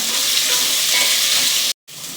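Onions with salt fry in a pan for Ambur chicken biryani, a dense, steady sizzle filling the clip with stirring mixed in, cut by a brief silent dropout near the end before the frying resumes.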